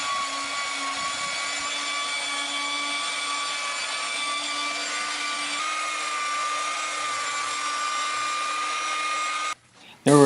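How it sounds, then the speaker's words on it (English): A belt sander runs continuously across a glued-up wooden standing desk top, a loud steady whine and hum that cuts off abruptly near the end. "Then it was time to get out the belt sander. This takes down some of the high ridges rather quickly."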